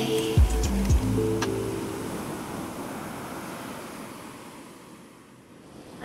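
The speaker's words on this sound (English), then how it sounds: "Listen to the waves, let them wash away your pain." Steady roar of ocean surf washing continuously, with a brief tonal sound at the start before the waves fill the rest.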